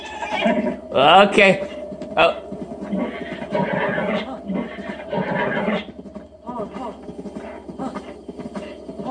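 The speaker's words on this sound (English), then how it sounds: "Oh, I got a horse now." A horse in the Zelda Breath of the Wild video game whinnies loudly near the start, with clip-clop hooves and a further neigh following, all under a player's casual talk and steady game music.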